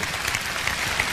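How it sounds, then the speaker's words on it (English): Audience applause at a motivational speaking event, a continuous wash of many hands clapping at even loudness for the whole short stretch, with no voice over it. "So I thank you for your applause."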